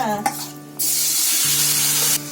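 Paneer drops into hot oil with fried cumin in a kadai and breaks into a loud, steady sizzle after a brief clatter, holding close and strong for over a second.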